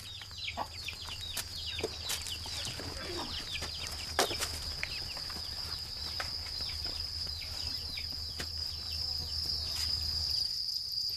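A cricket farm near Bangkok fills the air with a dense, constant high chirping from many crickets, with occasional clucks from nearby chickens and a rooster. No speech is heard.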